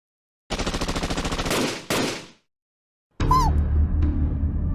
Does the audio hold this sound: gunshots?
yes